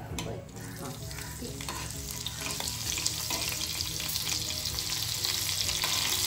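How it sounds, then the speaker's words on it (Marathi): Mustard seeds and chilli crackle and sizzle in hot oil in a wok, a dense, steady frying hiss that grows slightly louder over time, with scattered sharp pops from the seeds and no voices. "तेल आता गरम झालेलं दिसते। थोडी राई टाकायची आहे।"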